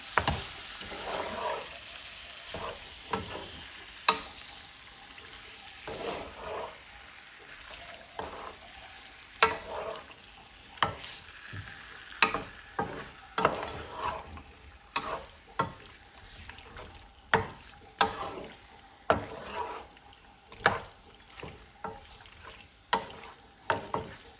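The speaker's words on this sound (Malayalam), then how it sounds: "ആദ്യം ഒന്ന് അഞ്ച് മിനിറ്റ് ഹൈ ഹീറ്റിൽ തന്നെ ഇട്ടിട്ടൊന്ന് വഴറ്റിയെടുക്കാം" Vegetables stir-fry in a pan over high heat, a steady sizzle under repeated rhythmic scrapes and knocks of a spatula throughout, with no talking.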